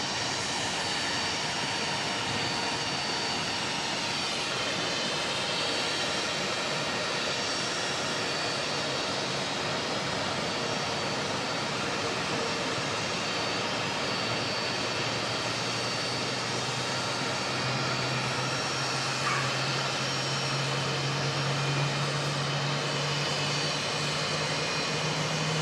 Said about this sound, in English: We've got a Jetstar aircraft running here as well